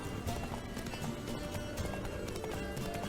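Roach, Geralt's horse in The Witcher 3 video game, gallops with steady hoof clip-clops under game music, with an occasional whinny.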